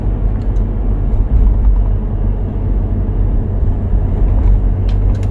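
Steady, loud low rumble of road and engine noise inside a Lexus LX570 driving at about 30 km/h, continuous and even throughout with no talking.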